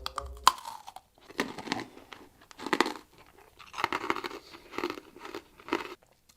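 Freeze-dried Milko Chew candy crunches loudly and close in repeated bursts of chewing, with brief pauses between bites and no talking.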